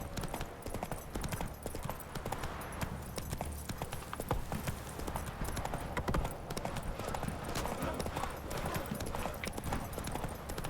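Roach, a horse in The Witcher 3, gallops with rapid, dense hoof clip-clops that run steadily and loudly throughout, backed by faint game ambience.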